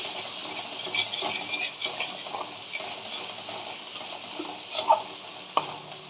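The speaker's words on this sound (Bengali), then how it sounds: "দিয়ে সুন্দর করে বেশ কষিয়ে নিতে হবে।" A spiced potato filling with salt, turmeric and Kashmiri chili powder is stirred and sautéed in a pan, with a soft continuous sizzle and the scrape and clink of a spatula against the metal.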